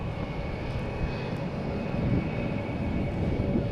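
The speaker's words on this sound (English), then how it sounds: "Flight 511 on an A321 going to Calgary" An Airbus A321 airliner, flight 511 bound for Calgary, at Dallas/Fort Worth airport: a continuous, moderately distant jet engine roar with a faint steady whine, swelling slightly toward the end.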